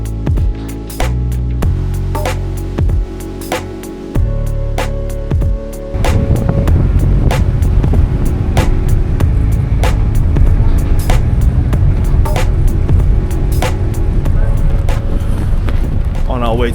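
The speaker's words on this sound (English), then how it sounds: "it's quite windy up here" Wind roars hard across a microphone on a ferry deck bound for Dublin, a steady, loud buffeting that intensifies partway through, with faint clicks over the blustery rush.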